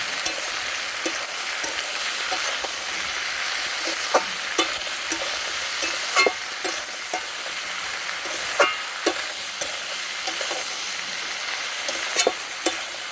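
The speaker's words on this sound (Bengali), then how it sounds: "মাছটা ভালো করে ভাজতে হবে" Fish frying in a pan gives off a steady, close sizzle with scattered small pops and stirring clicks throughout, no voices heard.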